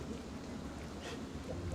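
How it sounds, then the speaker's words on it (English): Light drizzle in a rain sound effect, heard as a steady, even hiss of soft rainfall with a faint low rumble underneath and no voices. "and it starts to rain. Nothing too crazy, but a drizzle, as it were."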